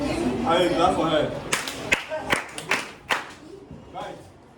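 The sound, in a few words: people clapping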